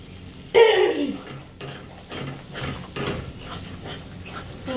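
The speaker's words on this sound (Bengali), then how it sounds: "মশলাটা সমানে নাড়াতে থাকতে হবে।" Masala for carrot pulao is stirred in a pan, heard as a loud scrape and sizzle at first, then a series of softer scraping strokes of the spoon against the pan with a steady frying hiss underneath.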